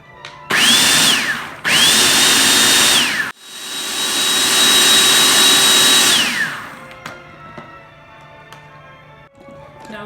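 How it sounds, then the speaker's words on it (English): Countertop blender pulsing tomato sauce with a cup of water: three loud whirring bursts, two short and one long, each with a rising then falling motor whine, followed by quieter kitchen noise. "And I'm gonna pulse it."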